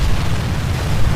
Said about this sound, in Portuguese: um gigantesco som de explosão ecoou perto de nós.